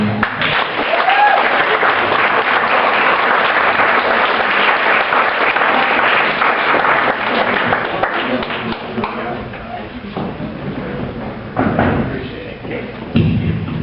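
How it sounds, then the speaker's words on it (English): Banquet audience at a community recognition awards dinner in Tipton applauding loudly and steadily, a dense wash of clapping that thins and fades toward the end with scattered thuds. "Let's give another round of applause"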